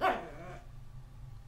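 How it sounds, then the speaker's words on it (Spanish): A small female dog gives one short, close whimpering yelp at the start, then the room falls quiet apart from a low background hum. "Es una perrita."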